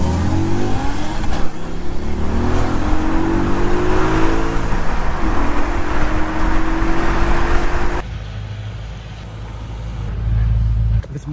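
Audi RS4 B6 turbo car launching and accelerating hard, a loud close engine roar climbing through rising revs for several seconds, then easing off to a lower hum with faint whine.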